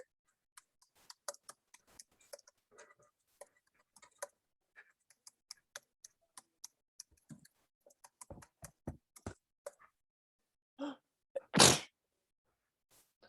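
A single sharp sneeze bursts out near the end after a series of quiet scattered clicks and taps.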